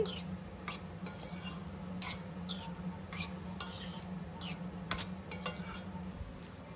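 A spoon stirring a cooking dish with chili powder, turmeric and salt, giving intermittent light scrapes and clinks over a low, steady kitchen hum, with no one talking.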